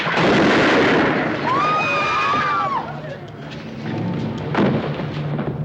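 A gun fired in a 1965 spaghetti western: a loud, broad blast opens with a rolling, echoing rumble, thin whistling tones drift through the middle, and a second sharp crack lands near the end.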